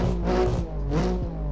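BMW M4 G82 Competition engine revving in the Assetto Corsa racing game: two quick, loud throttle blips rising and falling in pitch, close and clean, with no talking.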